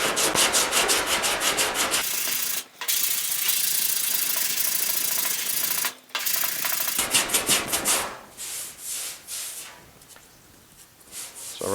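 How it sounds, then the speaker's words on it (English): Rhythmic back-and-forth scraping of a sanding block with 60-grit paper over body filler on a GTO car fender, in long rasping strokes with brief pauses between passes, close up. "I got some fresh 60 grit on the shorter block here"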